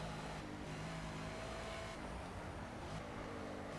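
Race car engine at Hockenheim in Project Cars, a dense steady roar at near-constant loudness with brief shifts in pitch as the car accelerates out of a corner, no voices.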